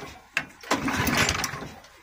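An old, neglected lawn mower engine is pull-started: a couple of sharp tugs, then the motor catches and runs roughly for a moment, close and fairly loud.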